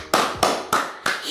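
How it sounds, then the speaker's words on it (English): Four sharp, evenly spaced hand claps ring out close and clear, each with a short bright smack, alone with no talking. "Huge applause."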